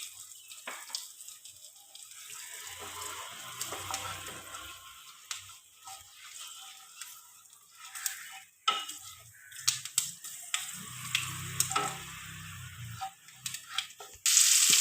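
Eggplant stuffing with chopped onion frying in a pan: a soft, continuous sizzle with scattered scrapes and clinks of a spoon stirring against the pan, fairly close and quiet, with no talking.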